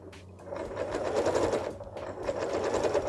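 A sewing machine stitches fabric along a concave curved seam, making a steady, fast mechanical whir and needle chatter. It keeps running with only short breaks and nobody speaks.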